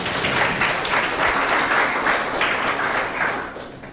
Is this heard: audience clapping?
yes